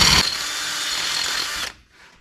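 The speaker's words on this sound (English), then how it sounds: "Kind of let the drill do the work. Don't push too hard. It binds up otherwise." A power drill whines steadily at close range during a suspension install on a diesel Jeep Gladiator, one loud continuous burst lasting over a second before cutting off abruptly into near silence.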